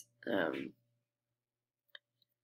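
A computer mouse gives two faint, quick clicks while selecting a category checkbox, heard just after a short bit of speech and otherwise in near silence.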